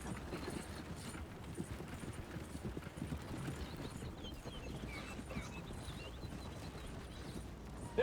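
Horse hooves in Red Dead Redemption 2, a quiet, steady clip-clop of a walking or trotting horse over soft ground, continuous and fairly distant under faint ambient noise.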